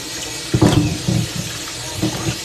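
Tap water runs in bursts in a home kitchen while something is washed, with splashy surges around the middle and near the end over a steady low rush, no voices.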